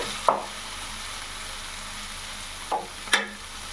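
Spice masala frying in oil in a kadai for a green pea dish, a soft steady sizzle broken by three short scraping stirs, one early and two close together near the end.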